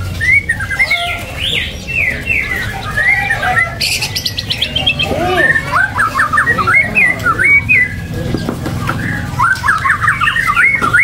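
A canary sings loud and close at a bird kiosk, pouring out rapid trills, chirps and whistled runs almost nonstop, with brief gaps between bursts and other birds faintly in the background.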